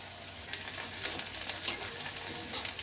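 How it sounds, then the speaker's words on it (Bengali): Soft, steady sizzling of onions frying in a pan, quiet and close, with occasional light stirring scrapes. "পেঁয়াজটাকে একটু লাল করে ভেজে নেব,"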